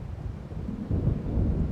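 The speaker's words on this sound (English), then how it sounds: "It seems there's a storm coming." Low rumbling thunder of an approaching storm in the game Alan Wake Remastered, a steady roll that swells louder halfway through, heard alone without voices.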